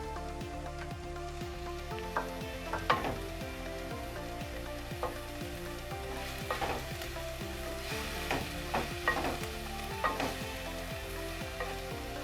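Chicken and cabbage frying over high heat in a pan, a steady close sizzle with repeated scraping stirs of a spoon, no voices.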